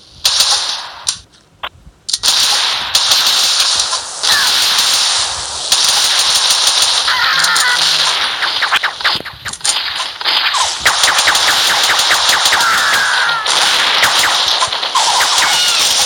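Shotgun fire in a video game, with dense, rapid, loud bursts of shots repeating over a continuous bed of game noise and effects.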